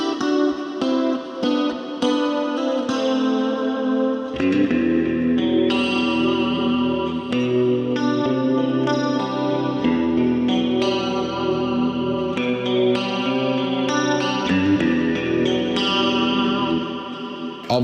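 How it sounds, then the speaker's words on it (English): Clean electric guitar tone with lush reverb-washed delay and compression, playing a classic song, with sustained chords and picked notes ringing steadily and upfront throughout, no voices. "clean sound, okay, which is beautifully complemented by a richly textured and expansive reverberated delay, along with a truly effective and robust compressor"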